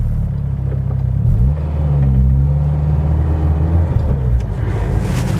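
A turbocharged 300+ bhp Peugeot 205 GTI engine rumbles loudly close up, then rises in pitch as it revs and accelerates, a steady deep drone with no talking.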